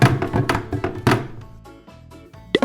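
Several hard plastic knocks and clatters come in quick succession, then a quiet stretch ending in one more sharp clack, as toy balls tumble down tubes at a children's play centre.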